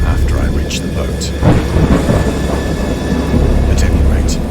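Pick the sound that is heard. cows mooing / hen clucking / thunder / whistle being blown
thunder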